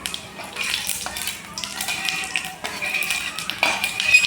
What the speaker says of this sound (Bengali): জিরেটা লাল লাল করে ভেজে নেব।